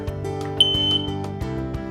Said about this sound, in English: smoke detectors, as you heard, are good to have in the home